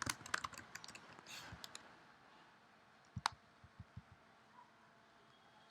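Keystrokes on a computer keyboard: a quick burst of clattering taps, then a lull and a few sparse, separate clicks, all faint and close with no talking.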